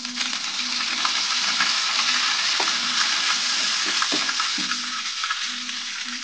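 Curry leaves hit hot oil that already holds mustard seeds and cumin, making a loud, continuous crackling sizzle with a few sharp pops and light stirring, close up and with no speech.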